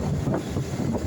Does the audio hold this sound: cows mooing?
no